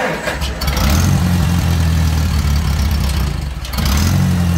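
Farmall Cub tractor engine cranking and catching in cold weather with the choke pulled, a steady loud mid-pitched running rumble with a brief dip near the end before picking back up.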